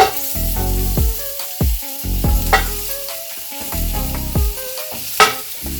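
Bones sizzling and browning in hot smoking olive oil in a cast iron skillet, bursts of crackling frying as pieces are moved and stirred, with sharp clanks between steady sizzle, close up.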